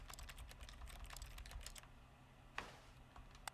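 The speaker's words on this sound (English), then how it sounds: "I love how when I press A, I'm actually making a typing noise." Keyboard-style typing clicks from button presses in The Stanley Parable, a quick run of faint, closely spaced taps that thin out and stop, followed by a couple of isolated clicks, quiet and alone.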